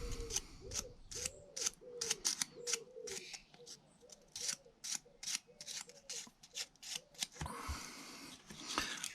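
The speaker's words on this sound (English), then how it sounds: "the best way I've found is just literally just to run the sandpaper around" Sandpaper is worked around a fuel tap from a Ransomes Marquis mower in a run of short, rhythmic scraping strokes, quiet and close, with brief pauses between passes.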